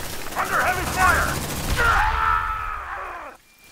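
Bursts of gunfire in the Aliens: Dark Descent video game, a dense fusillade running under loud shouted voices for several seconds before cutting off abruptly.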